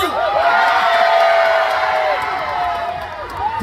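At the closing ceremony of the Bonghwa sweetfish festival, a large outdoor crowd shouts and cheers loudly and steadily, with high whoops rising above the roar and no speech over it.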